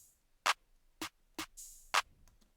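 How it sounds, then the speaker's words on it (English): Four sharp snare hits layered with a clap, evenly spaced at a moderate pace, crisp and dry, with a brief bright wash between the third and fourth. "it's a hybrid snare if I play it. You can hear it's a snare with a clap layer."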